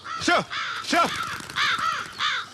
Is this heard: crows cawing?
yes